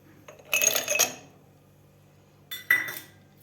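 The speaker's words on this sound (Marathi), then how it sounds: "त्यानंतर आपल्याला बर्फ घालायचा आहे यामध्ये." Ice cubes drop into a glass of cumin sherbet with mint leaves, two bright clattering bursts of clinks about two seconds apart in a quiet kitchen.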